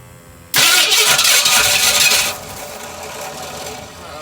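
A carbureted 1982 Ford Bronco engine cranks and fires abruptly, roaring loudly for a couple of seconds before dropping to a lower, steady idle.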